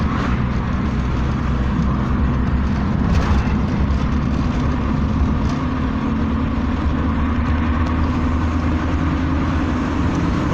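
A Peugeot 205 GTI with a 1.9-litre 130 hp engine pulls steadily in fourth gear, a continuous loud in-cabin drone with low rumble and no speech over it.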